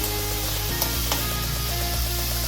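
Onions frying in a pan sizzle loudly and steadily as a tomato goes in, a continuous close hiss with a faint low hum underneath and a couple of soft knocks.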